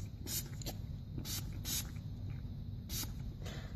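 A pump bottle of bitter apple deterrent is sprayed onto a dog's paw, giving a handful of short, sharp hissing spritzes spaced irregularly over a faint, steady background.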